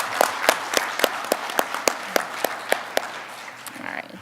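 Scattered applause from a small audience at an office department meeting, sparse individual claps in an uneven rhythm for about four seconds, moderately close and fading toward the end.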